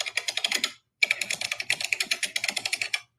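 Fast typing on a computer keyboard, a close, crisp run of rapid key clicks that breaks off in a short pause before the clatter resumes.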